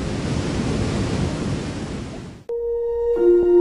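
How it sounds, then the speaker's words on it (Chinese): Thundering roar of Hukou Waterfall on the Yellow River in winter, a dense continuous rush that cuts off abruptly partway through, followed by sustained tonal music. "出现了气吞山河的壶口瀑布"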